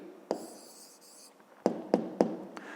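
Pen writing an answer on paper, a few sharp scratchy strokes and taps in a brief irregular run, close and quiet.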